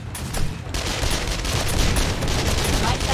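Turrets firing in 7 Days to Die, a sustained barrage of rapid overlapping shots and thuds, loud and continuous with a slight swell partway through.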